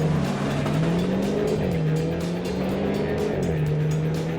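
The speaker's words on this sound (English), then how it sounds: "launch control's on, hit the throttle, and we're off" A Renault Sport car launches hard under launch control, its engine note rising steadily in pitch, dipping briefly at quick gear changes, then climbing again, loud and continuous from start to finish.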